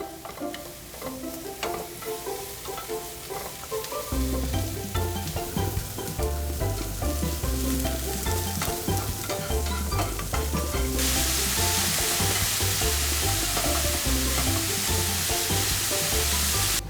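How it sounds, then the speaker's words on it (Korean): Onions stir-frying in a hot pan for japchae, a steady close sizzle with rhythmic scraping of a spatula that grows louder and denser partway through, no talking. "자, 우선 양파를 볶아주겠습니다."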